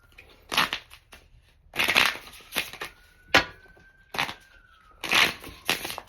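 Bursts of crisp riffling as a deck of playing cards is shuffled for a card magic trick several times, with pauses between, close by; a faint whistling tone runs underneath.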